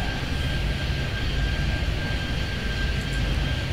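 Airplanes landing at SFO in the video game Airport Madness 3D, a loud, steady engine roar that holds for nearly four seconds with no talking.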